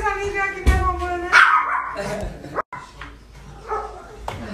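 Dogs at a house in Rio Real, Bahia, bark and yip in a few sharp bursts at close range, mixed with excited human voices talking over them.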